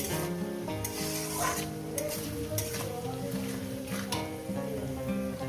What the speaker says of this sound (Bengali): পেঁয়াজ আর টমেটোটাকে আমি ভেজে নিয়েছি